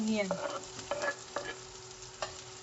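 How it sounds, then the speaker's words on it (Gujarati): Mustard seeds and cumin sizzle in hot oil for a Gujarati village-style vagharelo rotlo, a bright frying hiss broken by a few sharp stirring clinks and pops, with no speech. "હવે રાઈ ને જીરું ને થવા દેશું આપણે"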